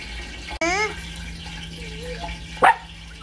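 Small pet dog grumbling, then letting out a short sharp bark near the end, close by over running tap water, with someone speaking around it.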